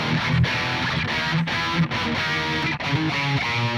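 Electric guitar through a Toneforge Jeff Loomis amp plugin with the shred knob turned up, a heavily distorted, mid-scooped tone playing fast palm-muted riffs with short choppy breaks, continuous and upfront.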